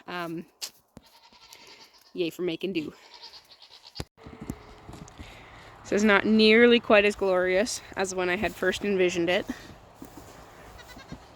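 Baby goats on a small farm bleat in a quick run of calls, close and fairly loud, after someone talks briefly at the start.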